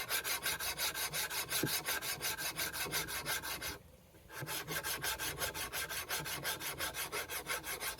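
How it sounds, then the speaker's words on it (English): Steel knife blade face being draw filed with a fine file during flat grinding, a steady rhythmic rasp of back-and-forth strokes, close and loud, with a brief pause midway. "draw file this blade face"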